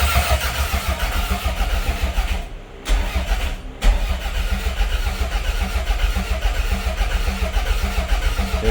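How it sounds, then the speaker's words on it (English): Toyota MR2 Turbo engine cranking on its starter motor, a loud rhythmic churning turnover that pauses briefly twice before continuing, close up with no speech. "it's turning over."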